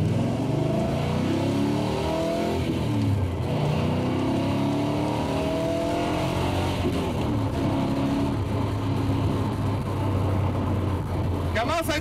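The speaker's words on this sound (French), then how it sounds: "Le bon vieux V8 américain, il est tout là." A De Tomaso Pantera's American V8, fitted with two non-original carburettors, drones steadily under load while driving, with engine tones rising and shifting through the pass and a voice talking over the engine noise.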